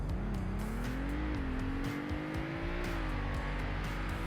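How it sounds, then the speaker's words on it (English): Car accelerating at full throttle from a standstill in the Roblox game Greenville, a loud continuous engine whine rising in pitch with a brief shift dip, alone without talk. "let's take a look at acceleration if you're just sitting at a traffic light and you want to floor it"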